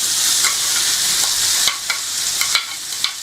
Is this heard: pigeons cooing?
no